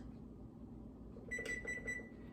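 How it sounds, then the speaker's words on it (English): A kitchen timer on an oven, set for ten minutes while Italian meatballs go in to bake, gives a short run of bright electronic beeps in quick succession over a low background hum. "And set the timer for 10 minutes."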